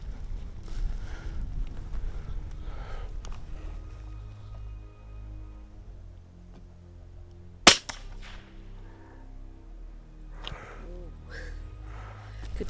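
One sharp gunshot at rabbits on a golf course in Te Anau, heard at mid distance over wind noise and a running engine, with people talking before and after.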